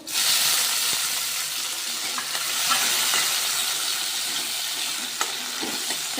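Chopped tomatoes with green chillies fry in a pan, giving a steady close sizzle broken by a few light stirring clicks and scrapes, with no talking.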